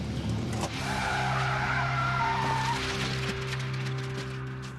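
A car spins out during a driving test, its tires squealing loudly in a long skid over a steady engine drone that fades slightly toward the end.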